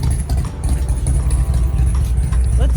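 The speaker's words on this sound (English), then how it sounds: "Of course, motorcycle would start the minute I start." A motorcycle engine rumbles loud and close, a low, steady idle with a faint rattle throughout.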